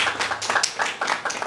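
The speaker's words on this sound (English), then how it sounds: "So a round of applause for Dr." Sparse applause for a panelist at a university research day panel discussion, a handful of distinct claps in an uneven rhythm, fairly close and moderately loud.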